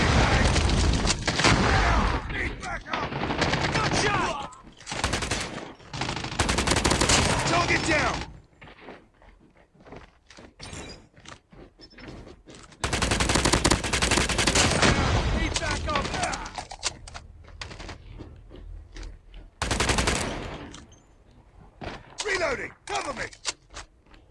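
BK57 assault rifle fire in Call of Duty Mobile, loud sustained automatic bursts with booming impacts, broken by brief lulls and shorter volleys over a busy in-game battle.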